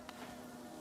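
Bee enemies in the video game Hollow Knight give a steady, faint insect buzz that holds for a brief moment, alone with no voices.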